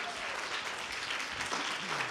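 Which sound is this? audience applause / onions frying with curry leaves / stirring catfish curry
audience applause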